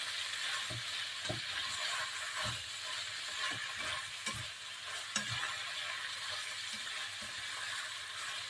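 Mixed seafood with shrimp and squid stir-fries in a pan, a steady hiss of sizzling broken by a series of soft thumping stirs and scrapes, fairly quiet and without talk.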